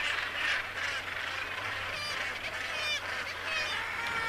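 Common Murres call continuously at the Cape St. Mary's seabird colony, a dense, loud chorus of harsh, overlapping growling cries from many birds packed close together.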